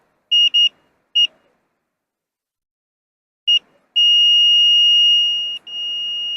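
A multimeter's continuity buzzer gives several short separate beeps, then one long steady tone as the probes touch ground and hold contact, loud and clear with no talk over it.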